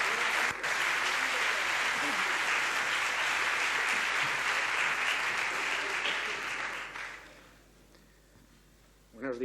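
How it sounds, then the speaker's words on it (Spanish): A conference audience at a science talk breaks into sustained, dense applause that fills the room for several seconds before fading out, with a faint voice emerging as it dies down. "Un aplauso para él."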